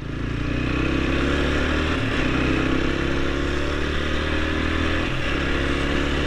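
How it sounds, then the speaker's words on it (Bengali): A TVS Apache RTR 160 4V motorcycle runs hard at high speed on the Mawa highway, its engine droning loud and steady throughout, with rushing wind and a couple of brief dips in the engine note. "আসলে আমার এই বাইকটাকে কখনো এত স্পিডে রাইড করা হয় না, আজকেই ফার্স্ট।"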